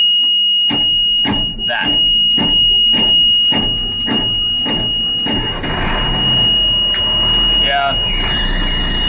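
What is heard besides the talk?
electronic alarm beeping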